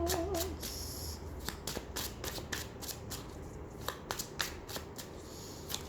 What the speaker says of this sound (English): I literally just dropped the whole deck then.